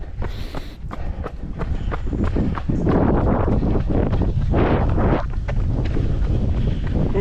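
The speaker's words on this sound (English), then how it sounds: "Oh, can you hear that wind? It suddenly came to me." Strong wind buffets a microphone during a long outdoor road run through the English countryside near Stockbridge and Houghton. It makes a continuous loud rumbling roar mixed with steady footfalls and heavy breathing.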